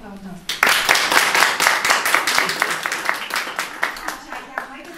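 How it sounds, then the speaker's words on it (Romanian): An audience at a Romanian community gathering bursts into applause after a brief quiet start, many hands clapping steadily and loudly with rhythmic accents, then thinning slightly toward the end. "Vă rog frumos să o aplaudăm."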